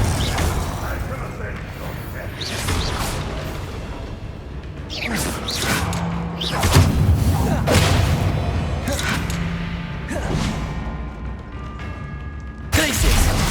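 Repeated Confringo fire-blast spells from Hogwarts Legacy go off in a fast duel, each a whooshing burst with a thudding impact, several in a row amid combat mechanisms and other spell effects, with spoken incantations in between.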